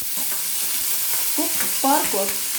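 Chana dal, urad dal and parboiled yam fry in a pan with a steady sizzle, while a spoon scrapes and stirs in a few short strokes up close.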